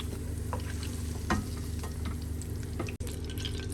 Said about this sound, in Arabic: هلا مباشرة حننزل بالباذنجان على الزيت.